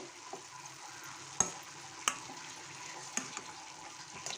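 A spoon stirs a cabbage and chana dal curry in a frying pan, with soft scraping and a few sharp clinks against the pan over a quiet, low sizzle.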